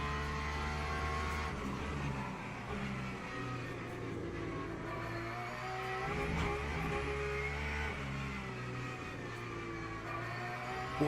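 Porsche race car in the racing sim Le Mans Ultimate, its engine droning steadily at high revs with shifting pitch through a slide, a continuous buzzy roar heard from the cockpit without talk.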